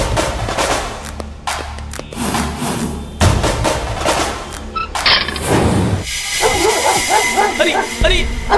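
Dog barking in a lively street scene from a Hyderabadi comedy sketch, loud and repeated across the clip amid shouting and general commotion, with voices and background noise throughout.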